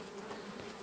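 Honey bees drone at an opened hive whose frames hold foundation, a brief, even, close buzz with no voices.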